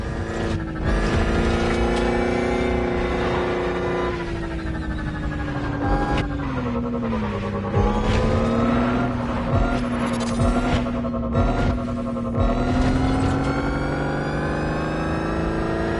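An electric Lotus car drives in The Crew Motorfest, giving a continuous, fairly loud motor whine whose pitch slides up and down through the whole run without a break.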